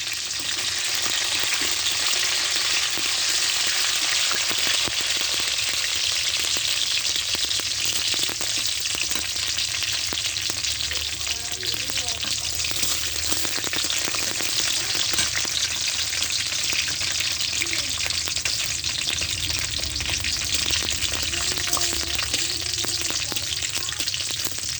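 Dried chillies, chopped garlic and black cumin fry in hot oil, giving a loud, steady sizzle with faint stirring scrapes throughout, no voices.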